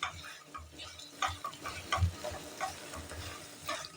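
Tomato chutney with dates and raisins is stirred in a pan, a soft sizzle under irregular close scraping and light knocking of a spoon, with no one talking.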